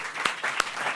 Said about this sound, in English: I want you to join me in another round of applause to our panelists.